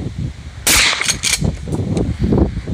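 Gunshots at an outdoor shooting range: a loud sharp report followed by a couple of quicker cracks, close and dominant, with low background rumble and no talking.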